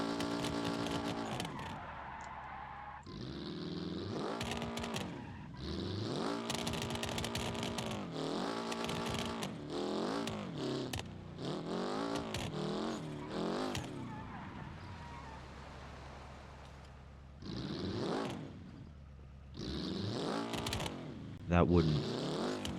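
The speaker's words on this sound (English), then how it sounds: "This car isn't meant to go 100-something miles an hour." A car engine in the BeamNG driving game revs hard at high speed, its harmonic pitch climbing and dropping through gear changes with some tyre squeal, while people talk over it throughout.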